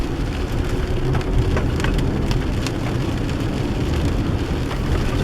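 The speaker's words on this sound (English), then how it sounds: "This is only the first day that we've had where it's rained most of the day so far." Steady rain falls on a campsite in a lush Pacific Northwest coastal forest, a dense, continuous hiss with scattered nearby drops pattering throughout and no voices.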